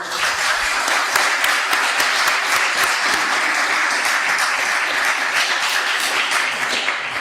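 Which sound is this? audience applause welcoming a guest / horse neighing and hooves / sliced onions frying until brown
audience applause welcoming a guest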